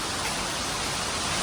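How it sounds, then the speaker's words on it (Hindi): Heavy rain pours down in a dense, steady hiss that fills the whole moment without a break. "बहुत तेज बारिश हो रही है"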